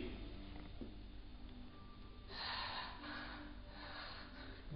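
Slow, deep breaths, taken while sitting in a yoga pose, come in two faint rushes of air with a quiet background and no talking.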